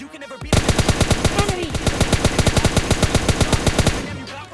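Automatic rifle fire from an AKM and M4 in the mobile game PUBG Mobile Lite rattles out as a loud, rapid sustained burst of about forty evenly spaced shots lasting several seconds before stopping.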